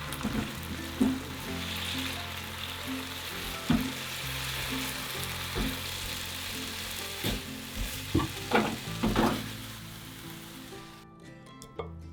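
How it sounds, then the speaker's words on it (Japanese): Eggs poured over other ingredients sizzle in a hot pan while being gently stir-fried for a light diet dinner of daikon and napa cabbage, a steady close hiss with periodic scraping stirs and clacks before falling silent at the end. "卵が固まってきたら崩しすぎないように軽く炒め合わせてください。"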